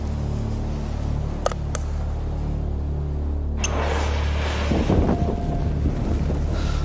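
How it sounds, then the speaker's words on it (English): Fuel-soaked garment igniting, a sudden whoosh of flame after a few quiet seconds and brief clicks, followed by a loud, roaring, crackling burn that continues steadily. "The flames are quite ferocious, and it's gone right the way through the material."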